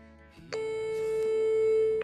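A telephone call rings through a handset as a single steady electronic tone that holds for about a second and a half, then stops abruptly.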